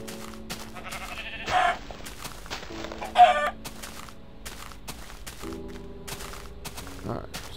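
Chickens cluck in Minecraft in a few brief, bright bursts over steady background game sounds, with a louder squawk near the middle and a short one near the end.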